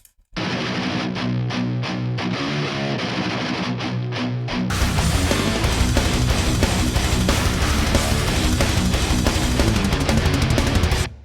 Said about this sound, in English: And again, all 4 guitars together